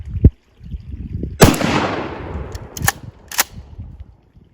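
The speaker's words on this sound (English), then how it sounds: "no earplugs, 20 gauge, buckshot. I'm going to hit this target dead center, see how she patterns." A 20 gauge shotgun firing #3 buckshot at a target outdoors, several sharp loud blasts close by, one with a long rolling echo, plus a smaller crack at the start.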